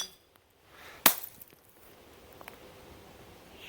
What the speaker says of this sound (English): Well, this hammer's gonna be useful for something.